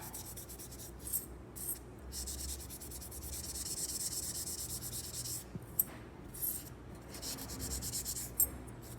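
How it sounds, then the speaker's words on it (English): Pro Polish pads rubbed against metal jewelry, soft close scrubbing strokes in short repeated bursts with a few light taps, faint and quiet throughout. "I take a little, these are little polishing pads called Pro Polish pads, and they work great to shine up metal."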